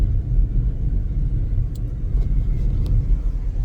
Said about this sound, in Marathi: आम्ही गाडी चालवतोय